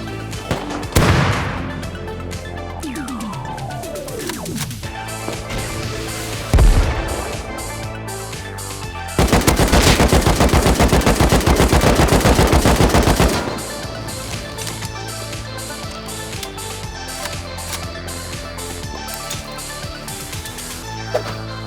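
An automated turret in the survival game Rust fires loud, rapid machine-gun bursts, with one sustained volley of several seconds amid scattered shots and explosions in a dense, noisy battle.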